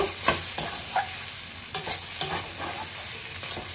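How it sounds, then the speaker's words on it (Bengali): Ash gourd with grated coconut and fried spices gets stirred in a hot pan, a steady sizzle broken by repeated scraping strokes and light spatula taps, close up with no voices. "এবারে এগুলো দিয়ে সব আমি একসঙ্গে ভালো করে মিশিয়ে নেব।"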